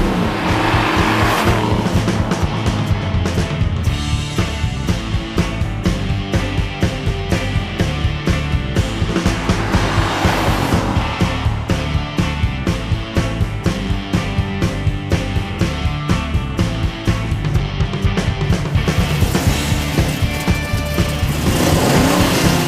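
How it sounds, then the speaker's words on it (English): A V8 engine runs hard on a dyno, a loud, dense, sustained roar with rhythmic pulsing revs that holds steady throughout. "There's nothing quite like the sound of a V8."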